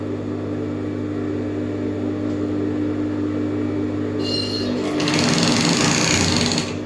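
A sewing machine stitches a seam on a three-quarter straight skirt, giving a steady, close mechanical whir that rises into a louder, busier run near the end.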